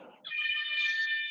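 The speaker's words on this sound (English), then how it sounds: "Love hearing my timer say session complete." A workout timer's electronic alarm marks the end of a session: a steady, bright beeping tone starts after a brief muffled sound and holds loud and alone for about a second.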